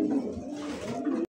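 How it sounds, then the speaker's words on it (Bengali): Iranian and Toggi pigeons coo in a low, throaty rolling call that runs steadily and close for just over a second, with no voices over it. "এত সুন্দর একটা কবুতর"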